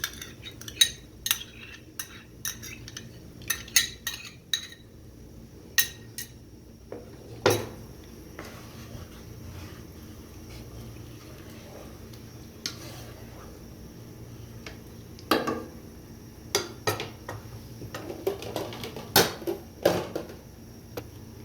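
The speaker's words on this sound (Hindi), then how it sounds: "अब हम इसमें डालेंगे दही, जो कि है 1 प्याली।" Yogurt goes into a restaurant-style biryani pot with potatoes and is stirred, giving close, intermittent metal spoon clinks and scrapes in bursts separated by quiet pauses.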